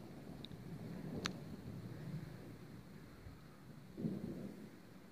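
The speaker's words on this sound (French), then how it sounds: "J'entends le tonnerre." Thunder from a weak late-summer storm over open countryside in Picardy, a low distant rumble swelling and fading under steady wind noise, with a sharp crackle early on and a second soft roll near the end.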